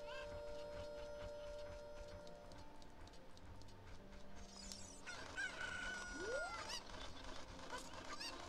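Cucco chickens in Zelda: Ocarina of Time cluck and crow alongside game music and chimes, with a rising tone near the end, fairly quiet overall.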